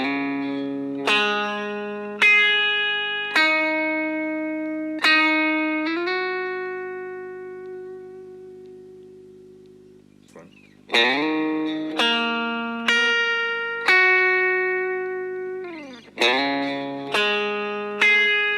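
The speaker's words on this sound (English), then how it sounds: "I'm going to do it without the overdrive and distortion." Clean electric guitar with no overdrive or distortion, playing a riff: ringing plucked notes and chords that sustain and decay, repeated in phrases with a brief pause midway, no talking.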